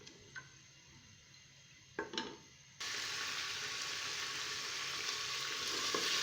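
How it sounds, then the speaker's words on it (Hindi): Ginger garlic paste fries in a pan for a Peshawari namkeen mutton dish: a few faint clinks of stirring, then a steady loud sizzle that holds to the end. "साथ ही मैं अदरक लहसुन का पेस्ट डाल दूंगी। अच्छी तरह से भून लेंगे।"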